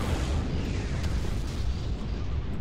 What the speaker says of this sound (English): Bombardment incoming.